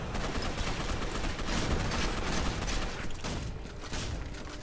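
Gotham City Impostors gameplay with a dense, continuous barrage of gunfire, shotgun blasts among it, loud and steady throughout the short stretch.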